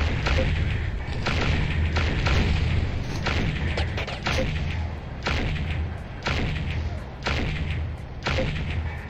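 An assault cannon tank in Battlezone Combat Commander fires mortars as a series of heavy, booming thuds, roughly one per second. Each thud is followed by a rumbling tail over continuous engine noise.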